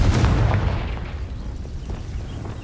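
A Confringo blasting spell goes off in Hogwarts Legacy: a loud, deep boom right at the start, rumbling and slowly fading over a couple of seconds with a low tail of game ambience.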